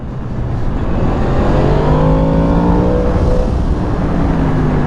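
A 2023 Yamaha MT-10 SP motorcycle pulls hard in second gear, its engine note rising steadily and loud and close as it accelerates with wind rush, with no voices over it.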